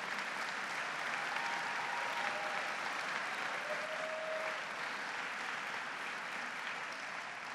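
Audience at the governor's swearing-in ceremony on Ellis Island applauding, a dense, steady wash of clapping from a large crowd that holds evenly throughout.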